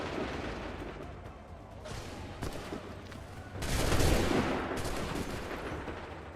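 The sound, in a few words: musket volley fire in video game Assassin's Creed III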